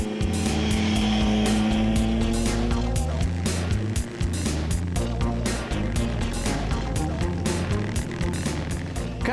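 A motorcycle lapping a race track on BST carbon fibre wheels, its engine a loud continuous drone rising and falling in pitch through the gears, close to the rider and with no talk.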